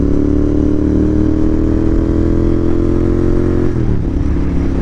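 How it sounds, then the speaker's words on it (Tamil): A vehicle engine drones loudly and steadily on a village road, close and continuous, with a slight dip in tone near the end. "வண்டி சவுண்டு தாங்க பயங்கரமாக இருக்குங்க"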